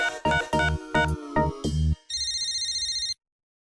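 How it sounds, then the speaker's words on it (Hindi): A landline telephone rings indoors with several loud, evenly spaced bursts of ringing, followed by a steadier electronic warbling ring that stops abruptly. "देखो किसका फोन है।"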